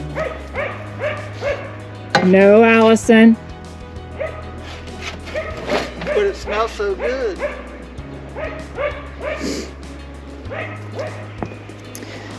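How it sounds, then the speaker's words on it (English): A dog barks in short yips and bow-wows, with one louder, sustained whining burst, while people talk nearby throughout. "He's always letting us know that he can bark"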